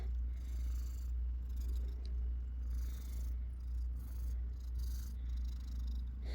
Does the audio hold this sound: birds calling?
no